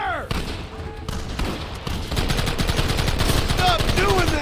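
Rapid gunfire in the Western video game Red Dead Redemption, dense bursts of shots and ricochets growing into a sustained barrage, loud and close with shouting voices mixed in.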